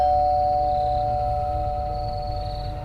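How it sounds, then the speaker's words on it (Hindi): A doorbell rings at night in a house, a clear electronic chime tone holding and slowly fading over a few seconds against a low hum, with no voices. "दरवाजे की घंटी बजी"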